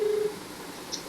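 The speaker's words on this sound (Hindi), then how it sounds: "देखिए, ज्योति मौर्य का हमने कॉल लगाया है।" A telephone call being placed to a person, with a short steady tone up front that fades into a faint line hiss and a tiny blip near the end; no voices.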